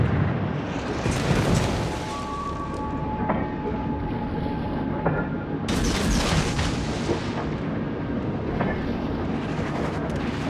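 Naval gunfire from a Clemson destroyer in World of Warships, heavy booming salvos and a continuous loud rumble of battle, with faint radio-style voice callouts mixed in.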